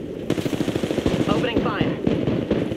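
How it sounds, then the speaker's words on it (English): Rapid automatic gunfire in the Apex Legends video game, dense bursts of shots firing loudly and continuously close by, with a player's voice talking over the fire. "Opening fire."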